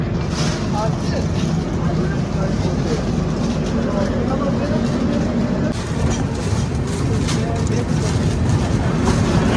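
Jan Shatabdi Express train pulling out of Balasore station, a loud, continuous rumble of wheels and carriages with rattling and clatter, heard from on board, with a person talking over the noise.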